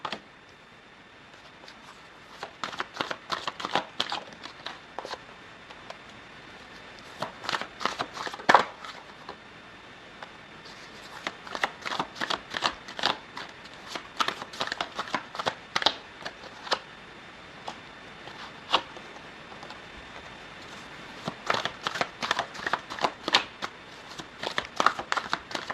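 Tarot cards are shuffled by hand up close, in repeated crisp riffling bursts of rapid papery flicks separated by short pauses.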